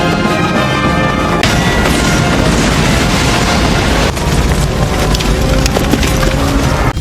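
A loud, dense roaring blast of explosive noise, sustained and chaotic with crackling bursts throughout.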